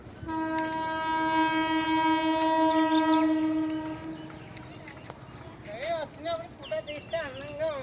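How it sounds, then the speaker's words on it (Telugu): A train approaching with a long, loud, steady horn blast lasting several seconds, followed by rumbling and bird-like squeaks as voices talk nearby. "ట్రైన్ వస్తుంది కరెక్ట్గా తెస్తా నీకోసం."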